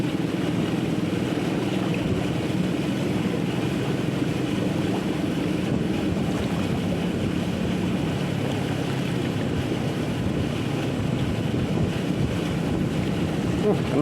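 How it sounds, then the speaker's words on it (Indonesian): A swirling, fast river current runs steadily throughout, a continuous broadband rush of turbulent water with wind buffeting the microphone, close and fairly loud, with no talk over it. "Nah, pusaran arus deras."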